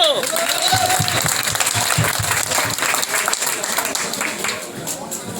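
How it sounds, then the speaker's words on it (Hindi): Applause from a village gathering in Narayanpur Bansaka, Dhaulana, with irregular clapping bursts from the crowd mixed with close talking and some rattling noise. "भैया ताली तो बजा दो"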